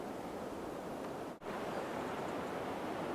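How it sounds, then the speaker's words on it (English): A stiff breeze blows in off a lake beside a hammock campsite, a steady, close, broadband rush with one brief dip in the middle. "I'm getting a pretty stiff breeze coming off the water"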